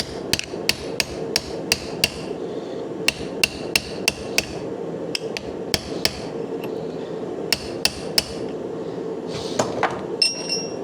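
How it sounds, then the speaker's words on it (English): Hammer blows on 1/4 inch bar stock bent over a vise edge while restoring a 1940 Mercury floor section; sharp metallic strikes in quick bursts of several hits with short pauses, close and loud over a steady room hum. "Just going to use it and kind of hammer it over on the edge."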